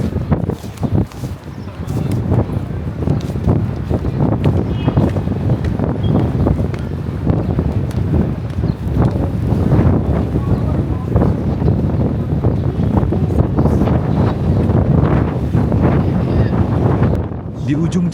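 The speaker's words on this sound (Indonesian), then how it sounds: "Kebetulan, angin pagi ini cukup kencang loh." Strong morning wind gusts along a street in Medina near King Faisal Road, roaring as a loud, steady buffeting rumble across the microphone for the whole stretch.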